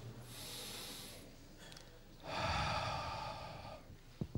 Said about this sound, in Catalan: Fem una respiració profunda.